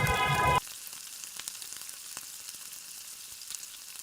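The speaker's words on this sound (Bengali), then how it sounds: "গরম তেলে সেম প্রসেসে এপিট ওপিট করে লাল লাল করে ভেজে তুলে নেব" A steady, crackling sizzle of soybean dumplings frying in hot oil, loud at the very start and then a softer, continuous spatter with occasional pops.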